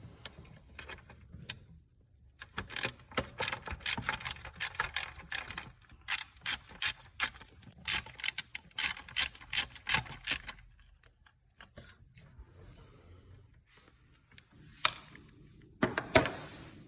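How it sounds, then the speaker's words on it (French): A 10 mm ratchet wrench clicks rapidly in bursts while loosening the oil dipstick mounting bolt on a BMW E70 X5 engine, close metallic pawl ticking with short pauses between runs and no talk. "on a dévissé ce boulon"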